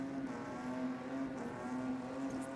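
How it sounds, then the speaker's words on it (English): A Falcon Ute revving at a drag race, heard from a distance as a faint, sustained engine drone with a steady pitch. "And that definitely sounds like another Falcon Ute."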